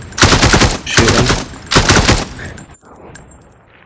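Loud automatic gunfire from a shooting video game, set in Beyond Sandbox, rattles in three long rapid bursts, each separated by a short gap, before a final sharp shot and quieter game sounds.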